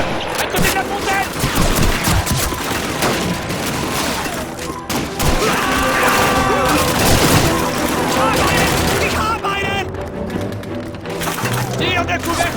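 Loud, continuous MG-42 machine gun fire and scattered explosions in a Call of Duty 2 Russian campaign street battle, with soldiers shouting over the din.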